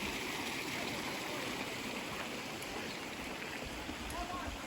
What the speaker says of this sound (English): Amazingly, there's running water in the creek here.